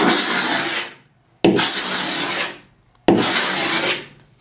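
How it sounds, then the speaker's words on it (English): A hand scraper drawn along the old finish of a wooden soundboard from a 1918 Krakauer Bros. grand piano, giving three long, close, rasping strokes separated by short pauses. "You just take the scraper, just pull along like so."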